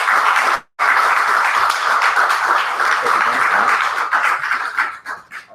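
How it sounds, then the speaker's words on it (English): An audience at a public discussion event applauds a speaker being introduced, a dense, steady wash of clapping that pauses briefly near the start and thins out toward the end. "Give him an applause, y'all."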